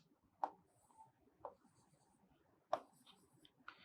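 A pen draws lines on a triangle diagram for a maths lesson on integrals, giving quiet, scattered scratchy strokes, with a few sharper taps and scrapes standing out over low background noise.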